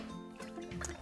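Orange juice streams from the pressed-down spout of a Vinci hands-free citrus juicer into a glass, a close, steady liquid pour with dripping and gurgling throughout.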